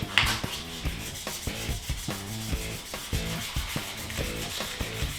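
Sandpaper rubbing back and forth over antler repair material, a steady close rasping scrape with regular strokes repeating throughout.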